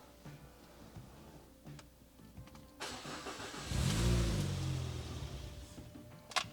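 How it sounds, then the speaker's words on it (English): A Citroen C4 VTS has its key turned in the ignition, with ticking from the fuel pump, then the engine turns over and starts with a rising rumble before settling to a close, steady idle. "So, key in ignition. Let's turn on the fuel pump."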